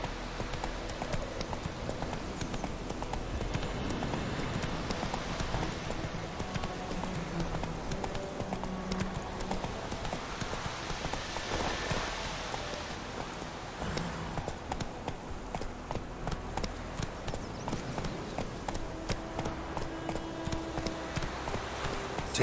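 In The Witcher 3, the horse Roach's hooves clip-clop in a steady rhythm, moderately loud and continuous under ambient game sound.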